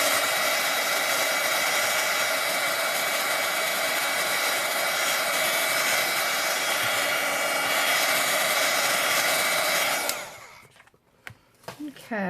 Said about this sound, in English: So let's go ahead and heat set.